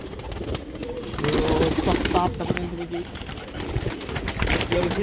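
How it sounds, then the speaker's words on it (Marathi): A tumbler pigeon coos, soft repeated low calls close by, heard under someone speaking throughout. "गट्टा फिरवणारा हा कबूतर आहे."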